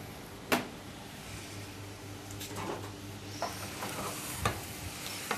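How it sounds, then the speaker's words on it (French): A dish with pepper, lemon juice and a little sugar stirred lightly in a pan, soft sizzling under a few gentle spoon scrapes and taps, one sharp knock near the start. "On remue légèrement."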